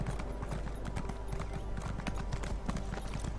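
Horses' hooves in The Elder Scrolls Online clip-clop in a fast, steady gallop rhythm, loud and close, with a continuous low rumble beneath them.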